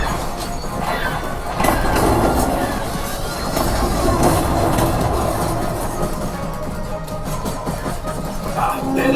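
Rumbling train effect from a Disney's Hollywood Studios theme park show, loud and continuous with clattering wheels and metallic squeal over a steady roar.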